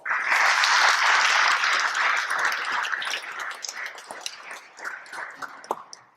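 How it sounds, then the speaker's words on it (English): A lecture-hall audience at a Canadian university applauds the organizers of a talk, a loud dense wave of clapping that thins after a few seconds into scattered, fading individual claps. "please give a round of applause to the organizers of this talk"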